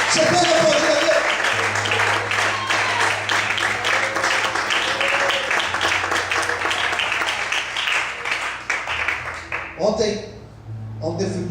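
A church congregation applauding God, a broad wash of clapping with a sustained keyboard tone beneath that thins out near the end as a voice comes in.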